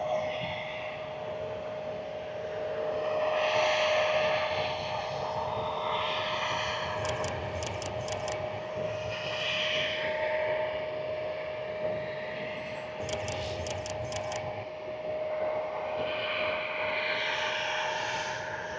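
Low-flying airplanes near DCA Airport at Gravelly Point, a steady broad engine roar that swells and fades over a long stretch, with a constant hum underneath.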